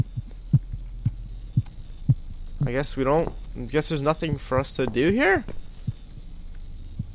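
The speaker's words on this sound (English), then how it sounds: "The heartbeat like slows up or speeds up and then slows down and speeds up again, which is weird." Heartbeat sound effect in the video game The Cat Lady: soft low thumps pulsing at an uneven pace, faint under a steady hum, with a person talking over the middle of the stretch.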